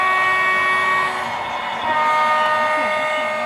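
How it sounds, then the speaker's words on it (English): Great Northern E-unit locomotives on a train layout sound a steady, loud multi-tone horn that holds without a break, over a low rumbling hum. "There seems to be a lull in the horn honking here."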